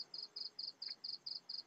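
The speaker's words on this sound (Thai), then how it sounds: "เสียงจิ้งหรีดดังมาถึงอังกฤษเลย" Crickets chirp in steady, evenly spaced pulses, about eight short bursts in under two seconds, faint against a quiet background.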